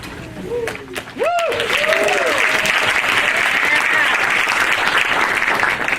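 A high school fast pitch softball banquet audience bursts into sustained applause and cheering, dense clapping rising after a few opening whoops and holding steady, with a voice speaking at the start.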